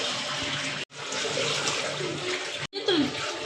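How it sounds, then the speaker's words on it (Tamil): Water pours steadily into a cooking pot of rice for mandi biryani, a continuous splashing gush broken by two brief pauses, close and fairly loud, with no talking. "இப்போ தண்ணி ஊற்றிக்கலாம்."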